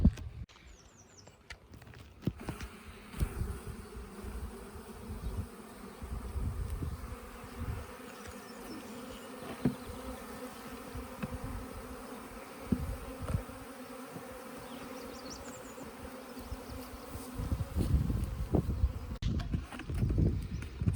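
Honeybees buzzing steadily around a Langstroth hive, a dense continuous drone close by, with occasional bumps and handling noises.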